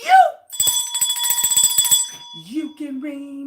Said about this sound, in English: Miss Gina, can you please ring the bell one good time